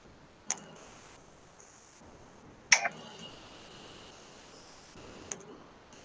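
A quiet burning candle gives off three sharp crackles and pops, spaced a couple of seconds apart, against a soft hiss.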